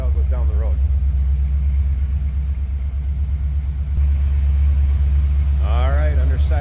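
A 1975 Ford F-100 regular cab shortbox pickup idles with a deep, throaty exhaust rumble that is loud and steady up close, while someone speaks briefly over it.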